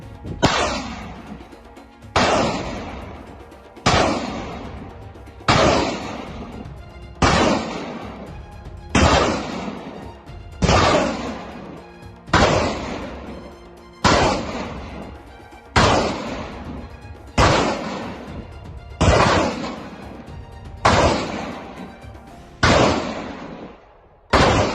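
An artillery battery in the Donetsk region fires in a steady series of about thirteen loud, booming shots at roughly two-second intervals, each report decaying before the next.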